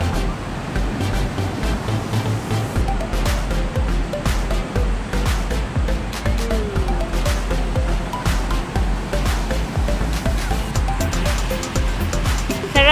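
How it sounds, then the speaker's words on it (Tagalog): Sea waves breaking at Lingayen Beach in Pangasinan, a steady loud wash of surf filling the whole stretch with a continuous rolling roar, with faint voices now and then in the background. "Sarap sa tenga yung sound ng ano na alon."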